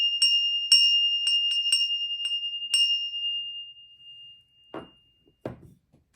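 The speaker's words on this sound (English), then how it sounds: "I'm going to ring the bell." A small metal bell is rung several times in quick uneven strikes, each ring clear and close and sustaining into a long fading tone, followed by a couple of soft handling knocks.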